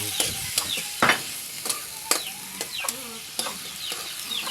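Vegetables for pinakbet are stirred in a hot frying pan, a spatula scraping and clanking in uneven strokes over a steady close sizzle.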